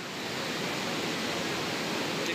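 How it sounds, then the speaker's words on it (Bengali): Water churns and swirls steadily through a machine at an arsenic-removal drinking water treatment plant, a continuous, even rushing wash that holds at a moderate level throughout with no voices. "তোমরা দেখতে পাচ্ছ জলটা কত সুন্দর ভাবে ঘুরছে এই মেশিনটার মাধ্যমে।"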